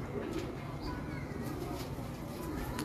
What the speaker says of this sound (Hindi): कबूतर जिहड़ा नईम साहब ने मैनू मेरी रिक्वेस्ट ते वापस भेजिया